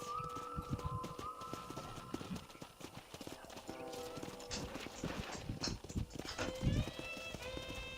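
Steady clip-clop of horse hooves at a walking pace in the video game Red Dead Redemption, close and continuous, with an occasional snort and background music tones underneath.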